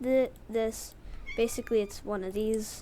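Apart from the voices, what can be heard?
pet cat meowing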